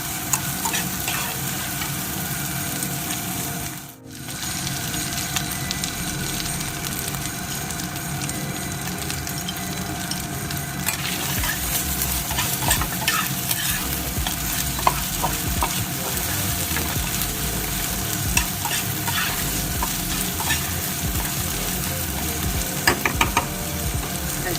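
Chopped tomatoes go into a frying fish curry, and a loud, continuous sizzle follows with a spatula scraping and stirring through the pan, broken by one brief dip early on.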